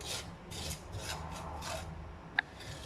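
Ingredients are stirred as they dry-roast in a pan for a savoury vegetarian breakfast, producing soft, repeated scraping strokes at an even pace, fairly quiet and close, with one sharp tap near the end.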